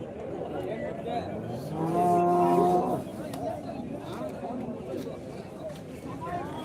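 At a busy cattle market in Kundarapalli, a bull lets out one long moo of about a second, close and clear above steady crowd chatter and talking.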